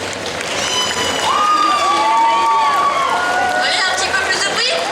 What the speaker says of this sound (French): Je pense que vous pouvez déjà commencer par vous applaudir tous.